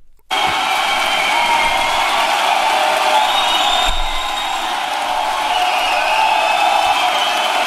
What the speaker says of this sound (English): this was one of the loudest roars from a crowd I've ever heard outside of music